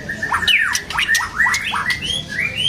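A sparrow calls repeatedly with quick chirps and downward squawks, close and lively, with no voices.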